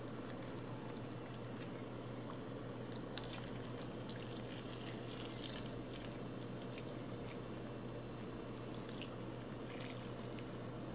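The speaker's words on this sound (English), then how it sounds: "So now on either side of my green, I'm going to pour a little thin stripe of blue." Thin stripe of blue dye poured for overdyeing recycled fabric, a quiet, steady trickle of liquid with a few small drips, heard alone and faint.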